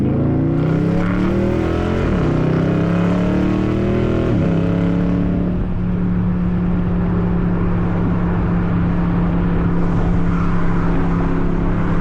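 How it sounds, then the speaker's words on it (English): A Dodge Challenger drives past on the road, a loud, close engine roar whose pitch rises and shifts as it goes by, with steady rumbling traffic noise continuing afterward. "There go a Challenger."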